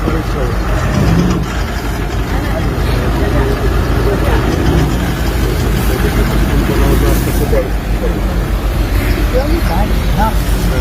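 A vehicle engine idles with a steady, loud, low rumble throughout, with crowd voices mixed in, near a lakeside boat accident site.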